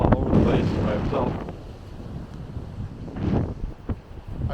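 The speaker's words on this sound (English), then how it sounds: "too windy and cold down here today" Strong gusts of cold beach wind buffet the microphone in loud, rumbling bursts that rise and fall, with no voices present.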